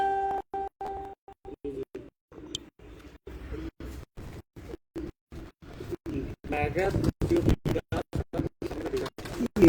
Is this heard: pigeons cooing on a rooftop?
yes